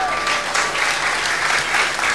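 Applause from a live studio audience for a singer at a radio broadcast, steady dense clapping sustained throughout, with a faint tonal hum underneath.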